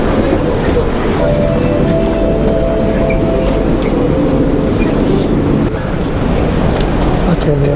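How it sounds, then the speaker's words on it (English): Rumbling airport train ride with a steady low roar of wheels on track, a brief tonal whine, and murmuring voices in the carriage. "So let's take the train ride."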